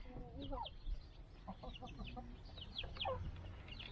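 Chickens clucking in a coop, with a rooster present among them: overlapping chirpy clucks and short calls throughout, close and moderately loud over a low rumbling background, with no speech.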